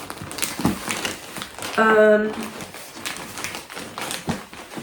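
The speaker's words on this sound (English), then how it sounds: "I'm putting it into a flat rate envelope, which is the cardboard envelope" A cardboard flat rate envelope crinkles and rustles as an item is slid inside, with close tapping and crumpling under ongoing talk.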